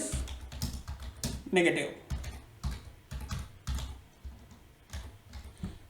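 Python code being typed on a computer keyboard, light rapid key clicks in irregular bursts running steadily beneath a man's ongoing speech.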